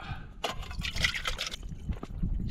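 Extra water is poured into a soup pot over a campfire, giving a soft, close trickle and splash that is quiet, with no talk.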